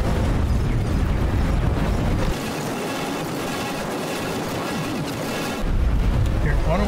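A Xenon dock module blowing up in the space game X4 Foundations: a dense, roaring blast that fills the first two seconds, settles into a rumbling wash, then swells again near the end.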